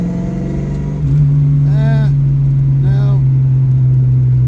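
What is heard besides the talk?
car engine hesitating and struggling to rev under full throttle, third gear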